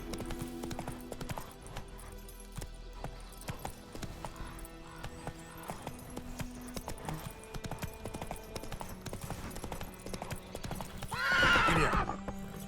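Roach, the horse in The Witcher 3, gallops with a quick, steady clip-clop of hooves under game music. Near the end a loud whinny rises above the galloping.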